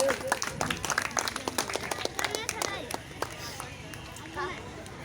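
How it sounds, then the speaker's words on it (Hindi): Wedding guests clap enthusiastically after the bride and groom exchange garlands, a dense burst of applause from a crowd that thins out after a few seconds, with some chatter. "एक बार फिर से जोरदार ताली बजाइए"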